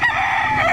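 A rooster at a Saturday chicken market behind SM City Lipa in Batangas crows loudly and close by, in a short, sustained burst.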